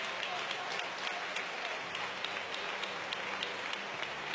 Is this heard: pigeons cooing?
no